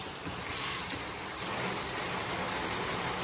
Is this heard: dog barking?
no